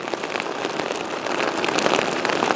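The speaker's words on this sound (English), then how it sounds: "So I gotta get out in this rain, make a run for the house." Steady rain falls outdoors onto an Outdoor Research Advanced Bivi sack during a rain test, a loud, dense, close patter of drops hitting the fabric with no break and no voices.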